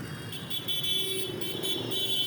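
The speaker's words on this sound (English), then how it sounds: "Look at the traffic jam here" Traffic jam on a street in Vietnam, with a continuous low rumble of vehicles and steady car horn tones sounding faintly throughout.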